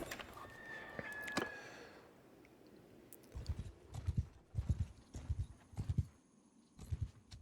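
Hooves of a horse ridden in Mount & Blade II: Bannerlord, a steady clip-clop rhythm of fairly close, moderately loud paired hoofbeats, preceded by quieter ambient battlefield noise.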